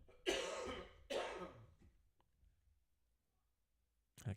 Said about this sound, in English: That cough's going to be killer.